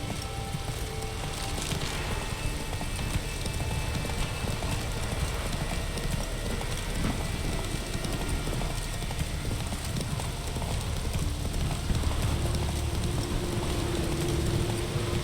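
Horse hooves clip-clop steadily in the video game The Witcher 3, a continuous rhythmic plodding that lasts throughout under a dense wash of ambient game noise.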